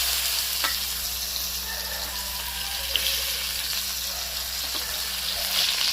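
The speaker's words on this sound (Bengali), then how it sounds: "তো এবার মাখিয়ে নিয়ে এবারে উচ্ছেটাকে ভেজে নেবো" Bitter gourd pieces frying in hot oil in a pan, a continuous close bright sizzle with a few soft clinks and stirring scrapes.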